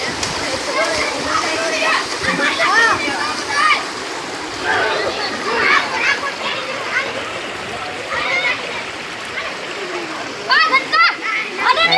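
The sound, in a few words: splashing in flood water in a village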